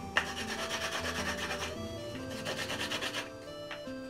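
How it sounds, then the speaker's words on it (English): Edges of wooden Jenga blocks are rubbed against each other to smooth them, a close, rhythmic rasping scrape repeated in quick strokes, heard alone. "just rub the edges together. And that'll help smooth it out."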